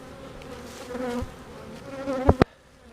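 Honeybees buzz around an opened beehive in a close, wavering drone, with a couple of sharp knocks near the end before the sound cuts off.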